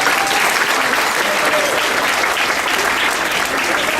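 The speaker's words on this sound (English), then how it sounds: "And let's give him a big round of applause." A fundraiser dinner audience breaks into loud, continuous clapping that stays even and close throughout.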